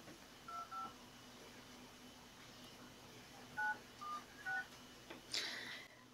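A new mobile phone being set up at home gives a handful of short keypad beeps in quick pairs and clusters, faint against a quiet room hum, ending with a brief rustle.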